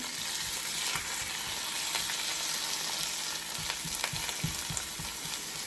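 Chopped onion sizzles steadily in a hot pan with oil, a dense continuous crackle broken by occasional stirring clicks and scrapes, close and fairly even throughout.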